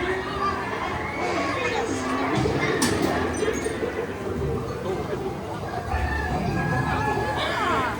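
Chickens cluck among the animatronic scenes of the Pirates of the Caribbean ride at Magic Kingdom, Walt Disney World. The clucking is mixed with a busy crowd, voices and show sounds.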